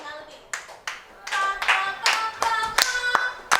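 Sharp hand claps in a secondary school steel orchestra music class, starting as a few spaced claps, then quickening into a rhythmic pattern alongside sung or spoken voices.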